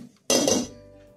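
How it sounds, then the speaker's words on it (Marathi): A lid set onto a pan of cooking tomato chutney gives one sharp metallic clink that rings briefly and fades into a soft simmering hiss. "यावर झाकण ठेवून 2 मिनिट शिजू देऊ"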